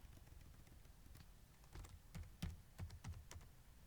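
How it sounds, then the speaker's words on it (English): Quiet, close typing on a computer keyboard: a short irregular burst of keystrokes that grows a little denser toward the end. "I'm going to type in Confederate States of America."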